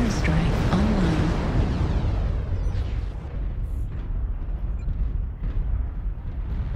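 Artillery airstrike explosions in MechWarrior Online, a dense rolling rumble of blasts and low booms that stays loud throughout, with a faint speaking voice mixed underneath.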